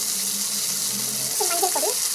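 Spices frying in oil in a pan, a steady bright sizzle with a brief voice murmuring underneath partway through.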